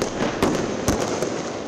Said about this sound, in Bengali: 31st নাইট ও খ্রিস্টীয় নতুন বছর বরণে রাজধানী সহ সারা দেশেই আতশবাজি ওড়ানো হয়